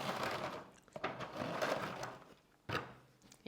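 Crinkling, rustling packaging and cardboard scrapes sound close up as a box of stuffed cookies is unwrapped, steady papery crackle with a couple of sharper tearing bursts.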